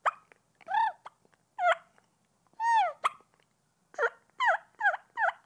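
Turkey clucks, purrs and yelps imitated on a turkey mouth call, given as a series of short, sharp, bird-like bursts: a few scattered calls, then a quicker run of four or five close together at the end, clear and up close.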